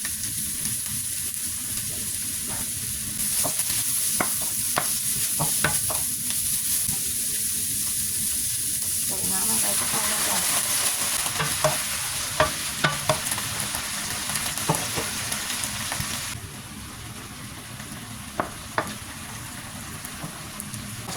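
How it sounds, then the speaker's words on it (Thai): Onion and carrot are stir-fried in a hot pan for udon noodles: continuous loud sizzling with repeated clatter of a spatula scraping and tossing, and the frying changes tone midway as more vegetables go in. "หัวหอมใหญ่ลงไปผัดนะจ๊ะเพราะว่านะสุกแล้ว พอหอมเริ่มสุกเราก็ใส่แครอทลงไปเลยจ้ะ"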